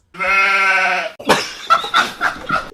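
A sheep gives a long, drawn-out bleat, then a few shorter, wavering bleats follow close together, loud and near.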